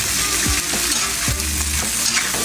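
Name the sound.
stirring food frying in a pan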